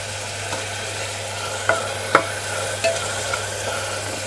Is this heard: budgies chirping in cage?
no